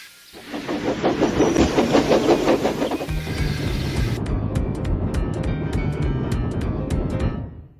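An animated steam engine runs along the line, a loud rhythmic chuffing and clattering of wheels with steady hissing, shifting into a lower rolling rumble with regular clicks before fading at the end; no voices.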